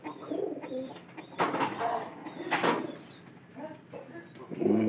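A pigeon feeding its chick coos in low, throaty phrases that repeat several times, close by, with a few brief higher bird calls mixed in.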